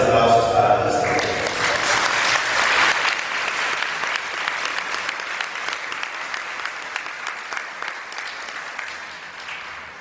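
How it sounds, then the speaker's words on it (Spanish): Loud applause from a church congregation during Mass at Santa Rosa parish in Callao, dense clapping that slowly thins and fades over about ten seconds. "fuertes aplausos para nuestro Dios"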